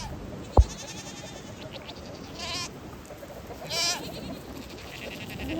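Sheep and goats in a farm pen bleat in a few short, nasal cries at a moderate distance. A single sharp knock comes early, set against a quiet outdoor background.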